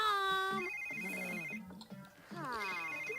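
A telephone rings in The Sims 3, giving a steady electronic ringtone of clear, repeating tones that sound near and loud. The ringing fills the start and the end of the clip, with a brief lull in between.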